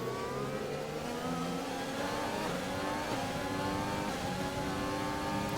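A Formula 1 car engine in a racing video game holds a high, continuous drone throughout, its pitch shifting slightly as the car revs through a race with no talking.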